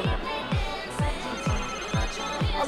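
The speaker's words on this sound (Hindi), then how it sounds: "अबे मुझे कॉल आ गया फोन का कॉल पिकअप करना है मेरे को" A phone rings in the video game GTA: The Ballad of Gay Tony, a steady electronic trill repeating about twice per second, fairly loud with a faint background hum.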